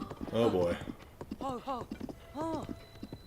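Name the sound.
horse hooves clip-clopping in Zelda Tears of the Kingdom video game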